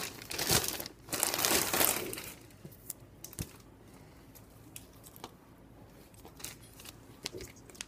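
Plastic mailer bag from a parcel shipped from China crinkles and rustles loudly near the microphone in the first two seconds, then gives way to quieter sporadic crackles and handling taps.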